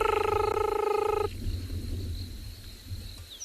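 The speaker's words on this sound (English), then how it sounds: "from a very pretty frog called a banded rubber frog" A banded rubber frog gives a high-pitched call, a steady harmonic trill sustained for over a second and then cutting off abruptly, leaving a low ambient rumble from the African bullfrog chorus and other night sounds.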